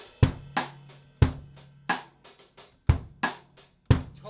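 Drum kit groove built on cross-stick clicks and hi-hat strokes, a close, dry, steady pattern of sharp hits with quieter ghost strokes between them, played alone with no talking.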